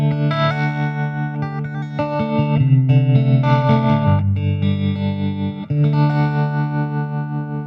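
Electric guitar played through a pedalboard on a clean trim setting, a steady strummed and picked passage with effects colouring the tone. It rings loud and continuous for several seconds, with a brief dip near the end and no talking.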